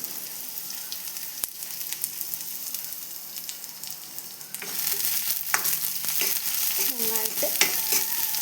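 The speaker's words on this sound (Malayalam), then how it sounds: "എണ്ണയിലോട്ട് വറ്റൽമുളകും ഉള്ളിയും ചേർത്ത് കൊടുക്കുന്നുണ്ട്." Dried red chillies and onion frying in hot oil, a soft sizzle that swells louder midway as stirring and scraping noises join in, close and steady.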